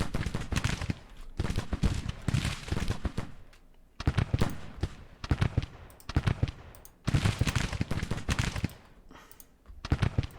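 Musket volleys crackle in a Grand Tactician Civil War battle, dense bursts of rapid rifle fire coming in waves of a second or two, separated by brief lulls, loud and close throughout.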